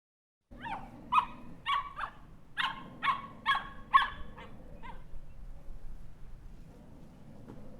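A small dog barks in a quick run of sharp, yappy barks as a sound effect in a children's story, about nine barks close together, then the barking fades into quiet background noise.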